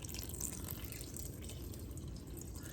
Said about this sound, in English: The easiest way to do it is to actually pour it into the Poolish to loosen it up on the sides.